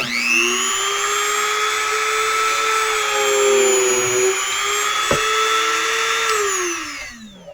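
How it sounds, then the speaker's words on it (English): A high, steady whine of a small Dremel rotary tool drilling through a plastic Scrabble tile, running continuously for several seconds before winding down at the end. "I drilled a hole right through the Scrabble tile"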